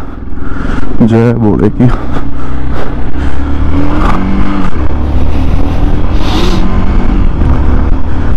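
A motorcycle pulling away at the start of a ride in Uttarakhand, with a loud engine rumble and rising revs close to the microphone while someone speaks over it.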